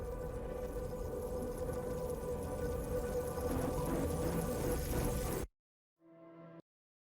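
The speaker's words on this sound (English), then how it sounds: "it's almost a reversed glass smashing sound." A reversed glass-smash effect closing a Spiritbox metal song, heard as dense full-band music that cuts off abruptly, followed by a brief swelling reversed shatter sound on its own.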